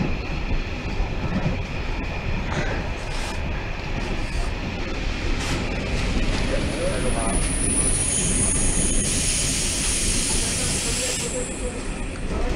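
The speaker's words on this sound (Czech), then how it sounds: "Přijíždíme do Všetat na osobním vlaku číslo 9530." A passenger train pulling into Všetaty station in the Czech Republic, heard from on board: a continuous rumble of wheels with hissing and a rising high squeal of brakes toward the end, voices talking over it.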